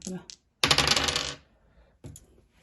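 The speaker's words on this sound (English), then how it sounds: "each player rolls the 2 dice and then they add the numbers together" Two dice rolled for a children's maths game, a single burst of clattering and rattling on a hard surface lasting under a second, close and fairly loud, followed by a faint short rattle.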